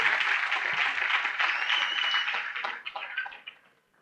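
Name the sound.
congregation applause in church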